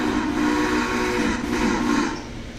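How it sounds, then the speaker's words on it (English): A Western Maryland three-chime steam locomotive whistle sounds in a long, loud, sustained blast with several blended tones, wavering slightly before easing off. "She's equipped with a Western Maryland 3 chime."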